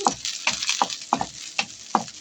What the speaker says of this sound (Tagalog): Gigisa muna natin ang kalabasa